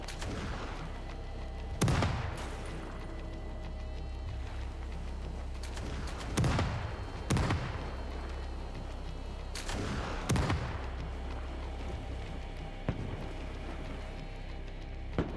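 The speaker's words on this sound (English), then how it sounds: "So musket fire being exchanged, cannon fire being exchanged." Musket volleys and cannon fire traded during a pirate-versus-British-ship naval battle in a video game, with several loud sharp booms at uneven intervals over a steady roar of ambient battle noise.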